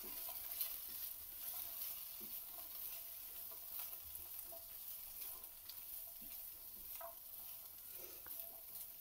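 Chopped capsicum and other vegetables are stirred through Maggi rice in a pan, giving a faint, continuous sizzle with light scraping and occasional soft clinks, no voices.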